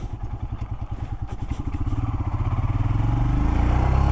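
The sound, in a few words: Royal Enfield Himalayan 411cc motorcycle riding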